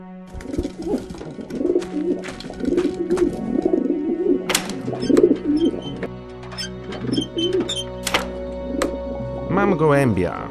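Pigeon coos repeat through the scene in the video game The Moment of Silence, mixed with hollow thunks and game music tones. A person talks over most of it.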